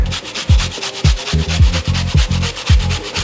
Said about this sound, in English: We're going to take some ginger root and just zest it in there.